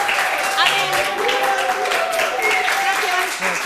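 A late-show studio audience applauds for Miriam Feilin with steady, moderate clapping, mixed with cheering voices throughout.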